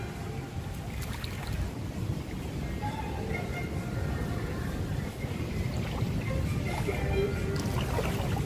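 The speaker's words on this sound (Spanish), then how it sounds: "Ah, tiene chorrito." A water jet splashes steadily into a restaurant swimming pool, making a continuous rushing, churning wash with a low rumble. It holds at one even level throughout with no clear talking.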